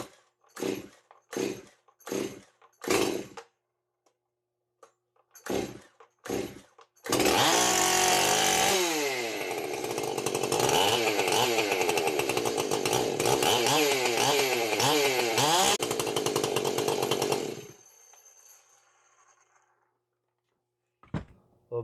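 A Stihl MS271 chainsaw starts after several sharp pulls, then roars loudly and steadily for about ten seconds with revving swells before cutting off and fading to silence.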